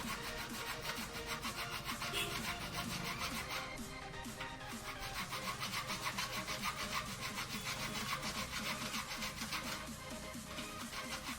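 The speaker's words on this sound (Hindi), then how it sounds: "यहाँ पे हम फाइल से इसको घिस दे रहे हैं स्पोक को, ताकि ये ट्यूब को नुकसान ना करे।" A metal file rasps back and forth against a protruding spoke on a bicycle rim, a dense continuous scraping with quick repeated strokes, close and steady throughout with no talking.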